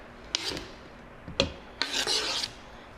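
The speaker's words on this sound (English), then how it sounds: "So a lot of times we want to use the back of that knife." A knife back scrapes chopped onion across a cutting board in three short, close rasping strokes, the last one longer, with quiet gaps between.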